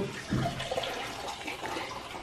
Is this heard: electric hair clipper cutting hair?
no